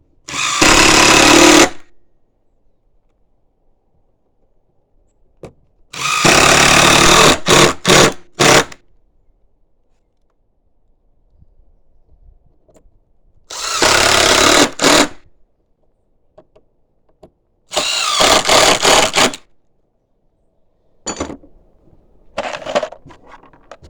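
Power drill driving screws into rustic fence picket boards on a door, in several separate bursts of a second or two each with quiet gaps between, loud and close.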